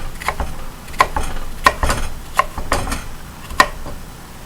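A knife chops tuna salad ingredients on a cutting board in a home kitchen in an irregular run of sharp, close taps and knocks, with no talking.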